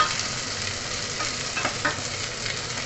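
Ginger and onion sauté in a hot pan for chicken tinola, giving a steady, close hiss of sizzling oil with faint stirring scrapes and no voices.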